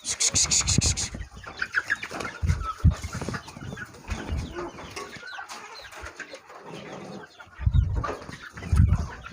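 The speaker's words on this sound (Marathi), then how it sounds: "आपण एंट्री मारूया आता कोंबड्याच्या खुरड्यामध्ये" Chickens cluck and squawk in a poultry coop on a small farm, with irregular close calls and some rustling throughout, and a sharp squawk near the start.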